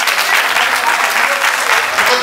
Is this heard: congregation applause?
yes